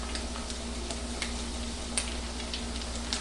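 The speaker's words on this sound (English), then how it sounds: "Add those to that hot oil" Homemade potato chips frying in hot oil over medium heat, a dense, even sizzle with scattered small pops and ticks, close up and steady, over a constant low hum.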